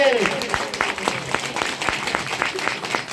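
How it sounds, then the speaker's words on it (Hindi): Audience applause at a crowded DXN programme gathering in Bhagwanpur, Uttar Pradesh, India, heard as a moderate wash of many hands clapping, somewhat uneven, with sharper individual claps standing out. "आपके लिए एक बार जोरदार ताली।"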